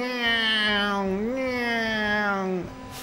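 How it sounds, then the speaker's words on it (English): A loud, steady electronic alarm tone from Final Fantasy XII blares in a sustained, warbling pitch and shifts pitch midway before cutting off near the end. "Why do they insist on playing these like really loud alarms in Final Fantasy"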